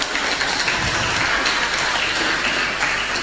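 Strong applause from an audience at an open debate, a dense, steady wash of many hands clapping without a break, loud and close.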